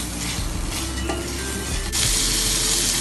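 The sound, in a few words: ginger garlic paste frying in a pan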